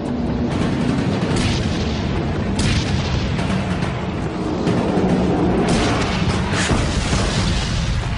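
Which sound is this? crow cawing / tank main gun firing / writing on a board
tank main gun firing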